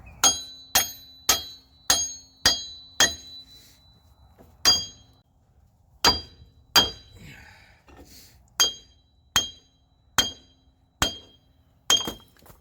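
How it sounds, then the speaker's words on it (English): Repeated sharp metallic hammer blows knocking a wheel hub off a Dodge Caravan, about fifteen strikes in uneven bursts with short pauses, loud and ringing, close by. "So now the hammer's going to come back out and we're going to beat this wheel hub off of here"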